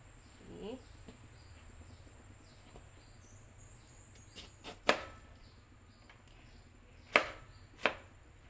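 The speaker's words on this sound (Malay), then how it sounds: "Lepas tu kita nak potong nanas pula" A knife cutting pineapple, a few sharp chops and thuds on a board, spaced apart and fairly close, over quiet background hum.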